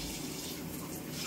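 Shower water running steadily in a bathroom, a continuous close hiss of spray and splashing with no pauses.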